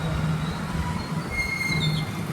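A train runs on a railway track close by, giving a loud steady rumble with thin, high wheel squeals drawn out over it, heard without any talk.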